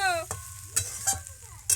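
A spatula scrapes and stirs fried potatoes in a frying pan in a few quick, separate strokes over a soft sizzle, with no one talking.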